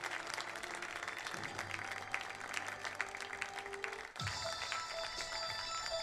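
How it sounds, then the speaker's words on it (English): Applause from a home crowd honoring the 2024 Kahok baseball seniors at a game against Freeburg, steady dense clapping for about four seconds, then a sudden shift to a brighter, busier crowd wash with some tonal sounds. "help us give one more round of applause for our 2024 Kahawk Baseball Seniors"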